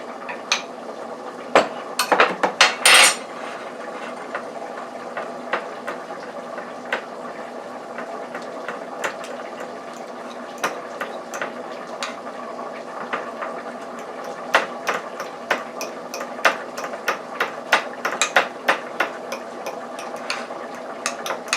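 A spoon stirs beef stew with added broth in a pot, producing frequent soft clinks and scrapes against the metal, with a short burst of rattling near the start, all close and moderately quiet.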